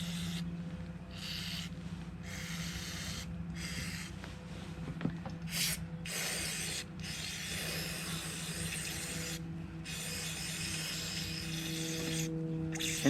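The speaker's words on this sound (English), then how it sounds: "So I'm gonna do a little bit more spraying here." Several bursts of aerosol cleaner spray hissing in short blasts into a 9mm AR-15 rifle, separated by brief pauses, over a steady low hum.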